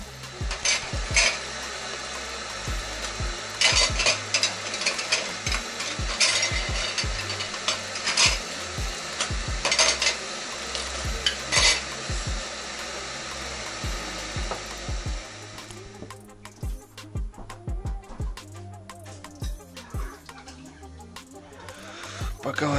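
Glass jars are handled and set out for canning stew, giving repeated clinks, knocks and clattering taps of glass in a kitchen, close and fairly quiet, continuing steadily throughout.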